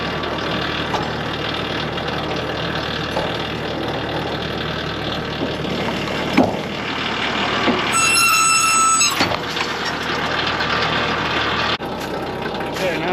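A tractor engine runs in regeneration mode while pulling logs for a sawmill, a steady diesel drone throughout with a brief sharp clank and a short high whine partway through.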